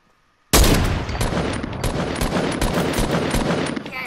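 Video game gunfire erupts suddenly after a brief quiet moment, a loud sustained burst of rapid automatic shots rattling without pause until the end, with no talking.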